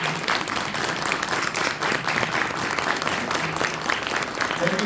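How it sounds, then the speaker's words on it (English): Convention crowd at Scarefest Lexington 2023 giving guests a round of applause, a full, even burst of clapping from many hands that carries on steadily for several seconds. "give a round of applause for our guests"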